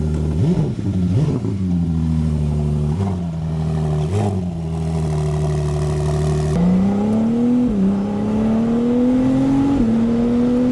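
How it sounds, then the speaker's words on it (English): A Ferrari GTS switched out of hybrid mode pulls away hard, its loud engine rising through several gear changes with rhythmic pitch climbs and dips, steady and close throughout with no talking. "Listen to this Ferrari leave."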